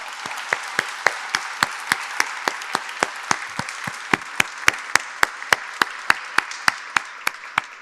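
Applause at an exhibition opening, a soft continuous crowd patter beneath a steady, evenly spaced run of sharp single claps standing out near the microphone, about three to four per second.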